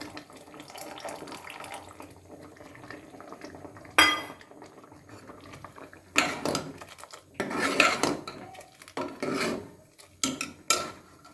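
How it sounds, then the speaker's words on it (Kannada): Tamarind juice poured into a simmering lentil and vegetable curry, with quiet bubbling and clinking of utensils, then bursts of splashing, pouring liquid and pot clatter heard up close without any talk. "ನಿಂಬೆಹಣ್ಣಿನ ಗಾತ್ರದ ಅಷ್ಟು ಹುಣಸೆಹಣ್ಣನ್ನು ನೆನೆಸಿ ಕಿವುಚಿ ರಸ ತೆಗೆದಿಟ್ಕೊಂಡಿದ್ದೀನಿ, ಅದು ಹಾಕೋತಾ ಇದ್ದೀನಿ"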